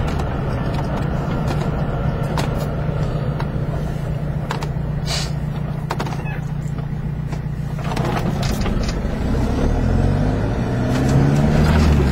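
A car driving up the Shankill road in Belfast, a steady close engine drone and road rumble from inside the vehicle, with the engine note shifting toward the end.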